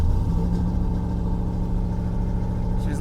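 A Pontiac G8 GT V8 idles roughly and loudly up close, a deep, steady rumble with a slightly uneven pulse and no talking.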